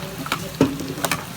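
Onions and garlic frying in a pan let out a steady, moderate sizzle with a few light stirring scrapes and clicks, close and with no talking.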